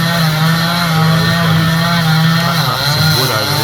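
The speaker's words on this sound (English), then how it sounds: "this guy's hacking away over there with a chainsaw" A chainsaw cutting wood drones loudly and steadily nearby in the Philippines, its pitch wavering slightly as it works.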